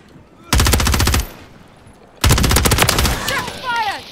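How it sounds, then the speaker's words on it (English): Two loud bursts of rapid automatic gunfire ring out in a shooter video game, each lasting under a second or so, separated by a short lull, close and sharp. "Shot fired!"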